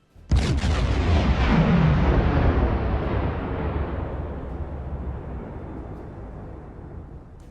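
A ship blows up in the submarine game Silent Hunter 4, a sharp blast followed by a long, deep rumbling roar that slowly fades over several seconds, heard loud and alone.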